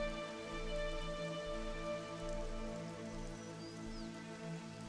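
Steady rain falls in a Xenoblade Chronicles 3 game scene, a soft continuous patter with low droning music and ambience underneath, with no voices.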